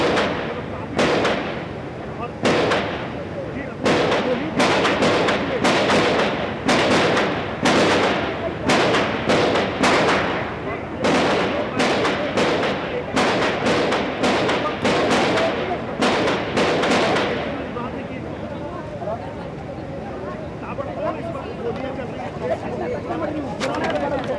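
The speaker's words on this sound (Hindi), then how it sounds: "फिलहाल गोलियां चल रही हैं। आप तक 9 राउंड फायर हो चुका है" Gunfire during the 26/11 Mumbai terror attack, a rapid irregular string of sharp distant-sounding shots cracking over a steady background roar, and the shots fade away for the last several seconds.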